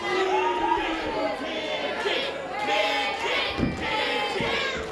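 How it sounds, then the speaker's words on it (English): Wrestling crowd at an Australian Integrity Wrestling event cheering and shouting in support of Pidgey, a steady wall of voices with swelling roars and scattered yells throughout. "Crowd in support of Pidgey here"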